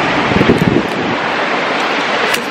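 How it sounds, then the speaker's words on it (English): Water rushes steadily from a fountain in a gorge near Lynmouth on Exmoor, a loud, broad roar with gusting wind noise on the microphone and no voices. "There's like a water fountain behind me."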